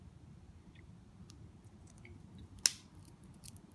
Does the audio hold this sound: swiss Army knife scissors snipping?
yes